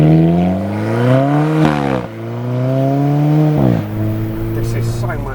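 An Alfa Romeo 4C pulls through the gears while driving, its exhaust and intake droning loudly from close by, rising in pitch, then dropping sharply at each shift, about twice across the stretch.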